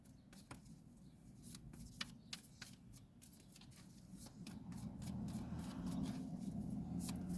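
Tarot cards shuffled by hand inside a car while light rain starts, giving a run of quick, crisp riffling flicks over a steady low rumble of the car and outside noise.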